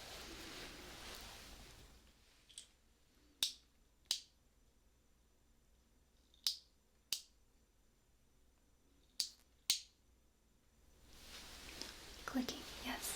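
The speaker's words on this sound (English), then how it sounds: "Clicking, yes, exactly." Six sharp, clicking snaps stand out alone against a quiet background, arriving in three spaced pairs, close and crisp, with soft breathy whisper-like noise before and after.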